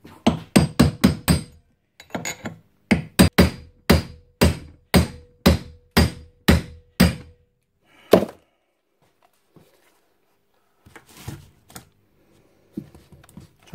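Sharp metallic hammer blows strike a drill chuck clamped in a vise in quick bursts, a rapid series followed by slower evenly spaced hits, then a pause and a few scattered knocks, close and loud.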